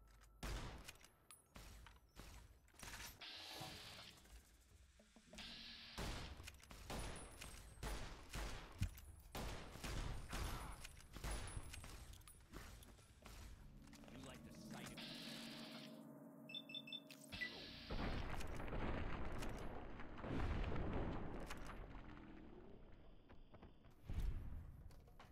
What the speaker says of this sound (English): Lever action shotgun coming in clutch